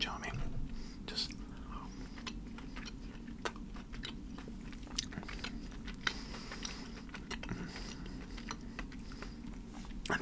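Sour Patch sour gummy sweets being chewed close to the microphone, giving soft repeated wet chews and small crunchy bites in an irregular rhythm under quiet whispering.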